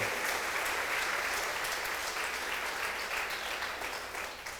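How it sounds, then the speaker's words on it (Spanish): Congregation applause in a church service, a loud, dense round of clapping from many people that holds steady and then gradually fades. "Dale un aplauso finalmente al Señor"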